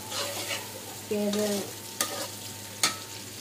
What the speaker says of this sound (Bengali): আমি অল্প একটু পেঁয়াজ কুচি দিয়ে দিচ্ছি